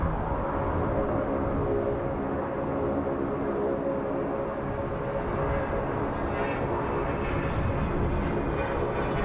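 A small business jet taking off at Sydney Airport in high wind, a broad continuous engine roar heard from a distance, steady and loud throughout with no talk.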